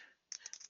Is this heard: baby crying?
no